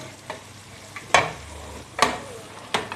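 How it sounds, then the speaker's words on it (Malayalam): Garlic bread cooking in a pan, a soft background sizzle punctuated by four sharp scraping stirs or flips at irregular intervals, close and clear with no talking. "ഗാർലിക് ബ്രെഡ് ഇങ്ങനെ കുക്കായിക്കൊണ്ടിരിക്കുകയാണ്."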